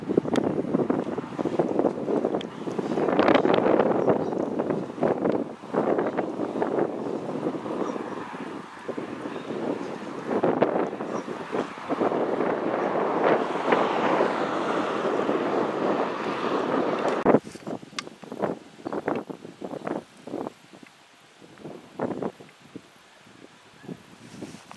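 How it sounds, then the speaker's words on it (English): Strong wind blows outdoors during a bee hive removal, a loud, continuous rushing buffet across the microphone that eases off near the end, leaving scattered knocks and rustles. "It is real windy today"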